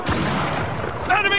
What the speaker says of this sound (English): Contact! Open fire!